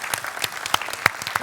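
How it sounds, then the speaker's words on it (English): A conference audience claps briefly, a short burst of scattered hand claps with distinct sharp peaks rather than a dense roar, fairly close and with no one speaking. "Let's give them a big round of applause."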